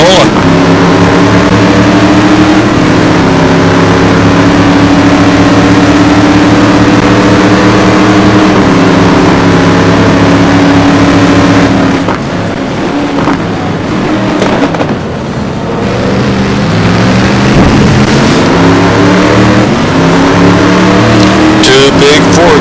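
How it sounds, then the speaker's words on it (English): Race car engines howl continuously in a GT1 racing game at Monza as big Fords chase a McLaren, loud sustained roaring with shifting pitch and a brief dip, with a commentator talking over it. "Two big Fords chasing down the McLaren."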